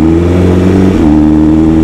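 KTM motorcycle engine revving hard and accelerating up close, a loud steady drone that dips briefly and then climbs back in pitch, with no talking.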